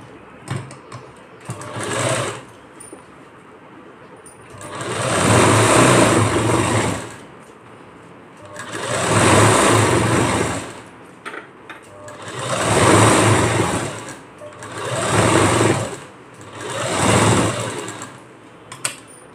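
A sewing machine stitches a puff sleeve in five or six bursts of fast whirring, each lasting a couple of seconds, with quiet pauses between runs. The sound is close and steady, and no one talks.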